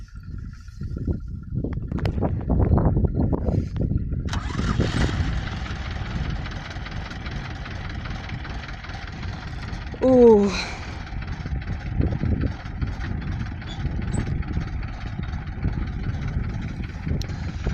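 A steady tractor engine idles throughout with a low rumble during hay collection, while someone speaks briefly near the start and a rising whine cuts in midway.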